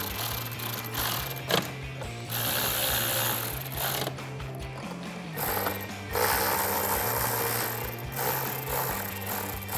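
A ratchet tightens bolts on a Jeep Wrangler JL rear bumper, close-up bursts of rapid mechanical clicking that start and stop several times, with short pauses between strokes.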